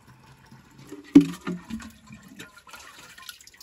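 Water is poured into a dried gourd (cabaça) used as a drinking-water container, with a sudden splash followed by a few short gurgles and drips before the sound tapers into quiet.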